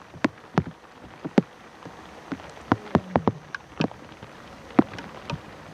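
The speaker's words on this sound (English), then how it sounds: "It's raining, the wind is picking up, it's feeling stormy" Rain falling outdoors in the bush near a pride of lions, with scattered sharp drops striking close by over a soft, steady background of rain and wind.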